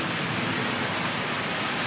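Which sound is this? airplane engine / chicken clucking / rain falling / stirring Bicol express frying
rain falling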